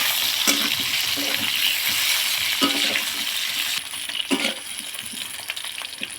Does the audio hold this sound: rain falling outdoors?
no